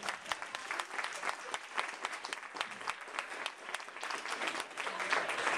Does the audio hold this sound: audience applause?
yes